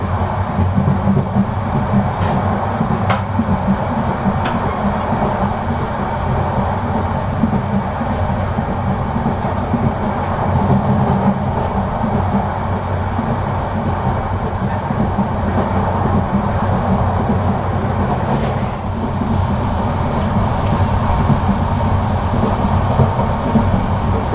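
Cox's Bazar Express rolls from Chattogram toward Dhaka past Alishahar railway station after dark: a steady, loud rumble of wheels and carriages with faint rhythmic clatter, continuous throughout and with no voices.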